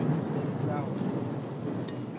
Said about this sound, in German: Ein Gewitter naht.